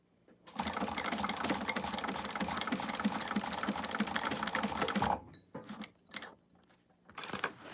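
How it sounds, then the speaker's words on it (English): A sewing machine stitches a strap connector tab in a quick, steady mechanical run for about five seconds, then stops and gives a couple of short bursts, close and alone. "we're going to stitch this on again"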